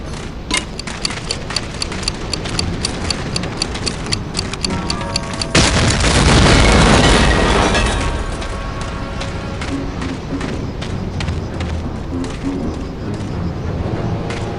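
Explosions destroying flak 88 guns in Medal of Honor: Allied Assault, a heavy roaring blast midway that swells and fades, with steady ticking and crackling game sounds before and after.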